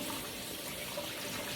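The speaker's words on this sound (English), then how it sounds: "this is hot water running on" Hot water pours steadily from a kitchen tap, a dense, even splashing rush that stays loud and close for the whole stretch with no breaks and no voices.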